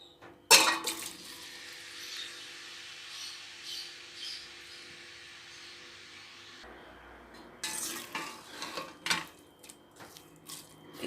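Three medium onions, sliced lengthwise, go into hot oil for a mutton and okra curry and fry with a steady, close hiss that runs for several seconds, then gives way to scattered clicks and clatter.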